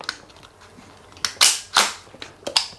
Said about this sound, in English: Forward assist probably doesn't really do much, but it is on there.